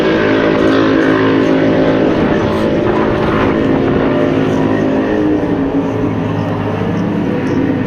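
Racing speedboats on the Manning River in New South Wales roar loudly and continuously as they surge away from the start, their engine drone steady under gusty wind noise.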